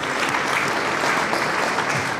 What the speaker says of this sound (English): we give you an applause for these 2 talks